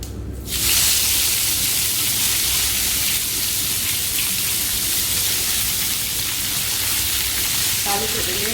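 Curry leaves and two dried red chillies crackle loudly in hot oil for a South Indian tempering. A sudden burst of dense, close sizzling starts and holds steady, with a few faint clinks near the end.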